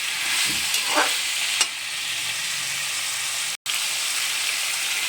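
Food roasting in hot oil in a pan, a steady close sizzle and crackle with a few stirring scrapes and one brief dropout.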